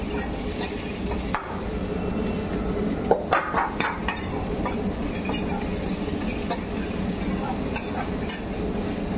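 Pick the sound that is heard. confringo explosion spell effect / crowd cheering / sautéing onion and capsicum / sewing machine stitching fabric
sautéing onion and capsicum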